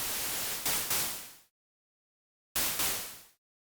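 Bursts of bright white noise generated in Ableton, loud hissing blasts that swell in two quick pulses, cut to silence, then return in another short double burst before stopping.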